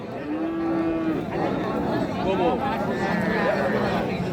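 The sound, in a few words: cows and calves at a cattle market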